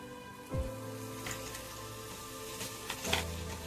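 Ground coriander and cumin toast in a pan with oil, giving a faint, low sizzle with a couple of soft scrapes from stirring. No one speaks.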